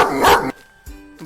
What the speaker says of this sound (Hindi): ई ह पहिला कुत्ता, पालतू कुत्ता